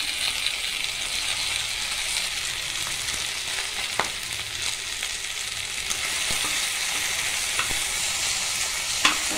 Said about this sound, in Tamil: வறுவல் மாதிரி கொஞ்சம் வதக்கணும்.